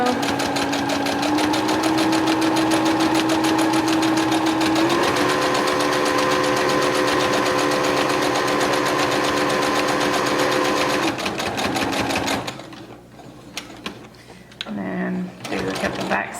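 A sewing machine stitches a fabric face mask in a steady, fast mechanical whir that runs for about twelve seconds, then stops, leaving quieter handling sounds and a person speaking.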